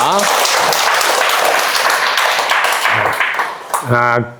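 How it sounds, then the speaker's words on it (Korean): An audience at a Korean talk applauds a good question with dense, loud clapping that tapers off, while a voice speaks over the tail end. "이분 좋은 질문 해주는데 한 박수 부탁드립니다"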